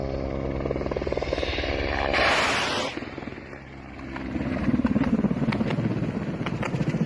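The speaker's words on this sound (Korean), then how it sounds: "우크라이나군의 밀8 헬기에 건십 무장에 달아가지고 로켓 딱 쏘고 이제 플레어 터뜨리면서 이탈하는 이 모습을 보셨는데" Ukrainian Mi-8 gunship helicopter in a combat attack, a loud steady rotor thrum and engine roar with a brief whooshing burst midway, likely rockets or flares, continuing close and loud throughout.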